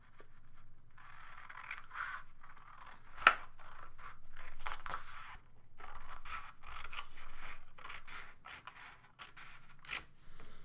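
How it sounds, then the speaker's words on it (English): Scissors cut paper strips for a paper weaving project. The soft scraping snips repeat close by at a fairly quiet level, with one sharper click among them and no voices. "I go and I cut my next strip"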